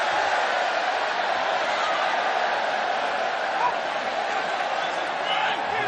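A Brooklyn wrestling crowd roars steadily in a WWE SmackDown video game, a dense, continuous wall of cheering with no breaks or swells.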